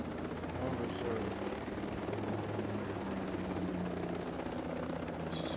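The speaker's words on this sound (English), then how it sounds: "I definitely just messed up the helicopter" A helicopter in the tactical shooter Ghost Recon Breakpoint drones steadily with a constant rotor throb, close and continuous, while a player talks.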